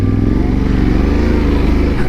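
A heavy adventure motorcycle ploughs through deep sand at an adventure riding event in Sweden, its engine a loud, close, steady labouring drone throughout.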